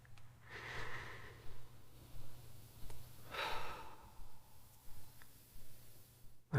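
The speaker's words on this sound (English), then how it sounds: "just take a moment to breathe" Slow, deep breaths during a guided breathing exercise on presence: two long, soft inhale-exhale swells, close and quiet, over a faint low hum, with no talking.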